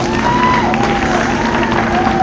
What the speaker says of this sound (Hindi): एक बार इन सब के लिए जोरदार तालियां हो जाए।